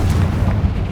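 Confringo fire spell exploding in the Hogwarts Legacy video game: a single loud, close, booming blast with a dense low rumble filling the whole brief moment.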